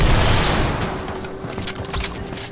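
A heavy sniper rifle shot in Fortnite Battle Royale opens with a loud booming blast that decays into a rumbling tail, followed by a few faint clicks and thuds.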